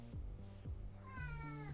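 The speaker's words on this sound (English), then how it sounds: "Cat. Yeah, she likes to make her presence known at all times." A house cat meows repeatedly, several short rising-and-falling cries in a row, close and fairly clear over a steady low background tone.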